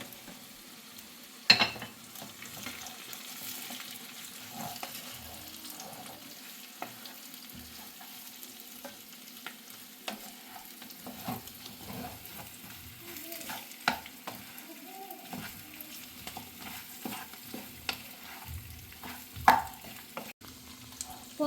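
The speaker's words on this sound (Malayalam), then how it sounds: "അപ്പോൾ നന്നായി ഇളക്കി യോജിപ്പിച്ചിട്ടുണ്ട്" Fried chicken is stirred into a kadai masala sizzling in oil, with a steady soft fry hiss broken by intermittent scrapes and clacks of the spoon against the pan.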